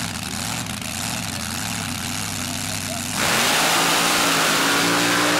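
Mud drag race car called Reality Check launching down a 160-foot North Carolina dirt track, engine idling low then erupting into a loud, sustained full-throttle roar at about three seconds.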